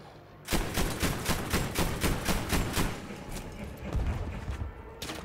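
Anti-aircraft gun in the video game Battlefield V firing a rapid, steady string of loud, close booming shots that starts abruptly and keeps going for several seconds.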